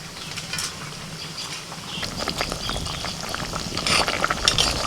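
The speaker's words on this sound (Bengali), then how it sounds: "মশলাটা ফুটে গেছে এবার ভাজা মাছগুলো দিয়ে দিচ্ছি" Fried tilapia pieces going into a pot of boiling masala with tomato and turmeric, a steady bubbling, sizzling patter with a few sharper splashes and crackles toward the end, close by, no talking.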